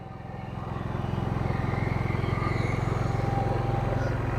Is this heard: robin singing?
no